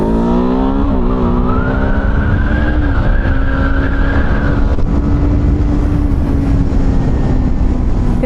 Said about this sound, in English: When you first pull that throttle, it bogs down.